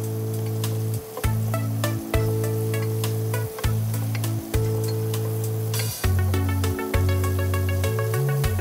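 Food frying in a pan for a tomato chicken curry, a hissing sizzle running underneath loud, steady background music tones that dominate the recording.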